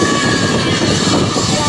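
An L-39 jet trainer with a Czechoslovak-built Ivchenko engine roars steadily and loudly overhead during an airshow demonstration, a dense, continuous rushing whine with no voices.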